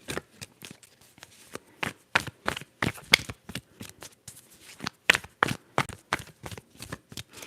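Oracle cards are shuffled up close in a quiet room, giving crisp, irregular riffles, slaps and papery flicks in quick bursts with short pauses between them. No one speaks.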